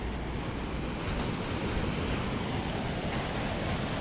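Waves on Patong Beach roll in as a continuous, loud broadband wash, mixed with wind buffeting the microphone, with no voices.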